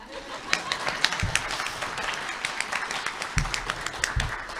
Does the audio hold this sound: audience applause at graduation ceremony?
yes